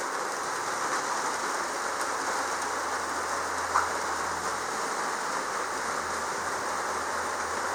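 Hard rain falling on the metal roof of an Airstream camper gives a steady, dense hiss that holds level for the whole stretch, with no voices.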